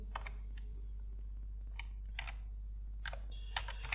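Quiet bursts of clicking keystrokes on a computer keyboard come in short irregular clusters over a steady low hum, close and faint, with no talking.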